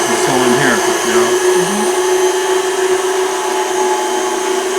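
A KitchenAid stand mixer runs a pasta press attachment at speed 10 while homemade spaghetti is extruded, giving a loud, steady motor whine with faint tones drifting underneath.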